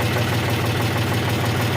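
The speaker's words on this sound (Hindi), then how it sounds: "तो अब हम ट्रैक्टर लेके चलते हैं।" Tractor engine running steadily in a farm setting, a continuous loud low rumble with a knocking idle-like throb throughout and no talk.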